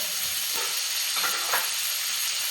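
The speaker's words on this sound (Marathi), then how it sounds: "मग ह्या आपल्या बोर मिरच्या टाकल्या आणि टोमॅटोज टाकला ते फ्राय करून घेतोय आपण" Onion, tomato and bor chillies with ginger-garlic paste fry in hot spiced oil, giving a steady, close sizzle that holds evenly throughout with no one speaking.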